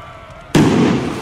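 Land mine detonating in the strategy game Empire Total War: quiet background, then one sudden loud boom that erupts and rolls on, decaying slowly without fading out, with no speech over it.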